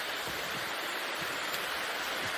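Water flowing steadily along a creek with steep banks roughly 12 to 20 feet high, a continuous close rushing wash with no voices.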